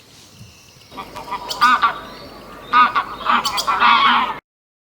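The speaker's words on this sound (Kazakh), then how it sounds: "Жоғарғы бұтаққа қаз отырып алыпты." A goose perched on a high tree branch gives a run of loud, close honking calls in several bursts, with no voices.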